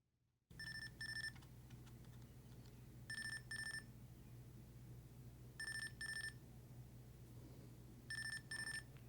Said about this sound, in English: you can set the alarm, and it will actually wake itself up and start to ring